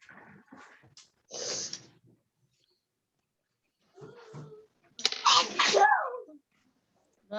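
A single loud sneeze bursts out during a live Zoom class, briefly preceded and followed by nearby voices talking.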